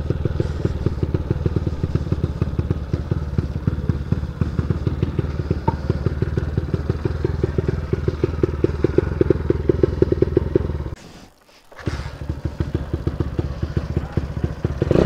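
A 160cc motorcycle with a 65.5 piston, running on alcohol through a carburetor, runs loud and close with a rapid, crackling, lopey idle that briefly drops out and then resumes, with no talking.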